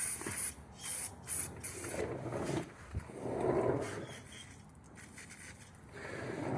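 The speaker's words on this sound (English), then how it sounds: "I'll take a little brake cleaner and" Brake cleaner hisses in spray bursts onto the fork pinch bolts of a Yamaha R6 motorcycle during fork seal work, several short quiet blasts followed by a longer soft spray, close and without talk.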